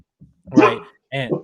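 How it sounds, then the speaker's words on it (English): A dog barks nearby, a couple of short, loud, harmonic bursts rising over quiet background, with a brief word of talk in between. "sorry, my dog"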